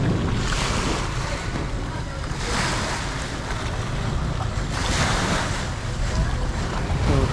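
Waves wash steadily at Maya Port in Daan Bantayan, North Cebu, where boats leave for Malapascua Island, with a continuous rush of surf, boat and water noise, and strong gusts of wind buffeting the microphone throughout.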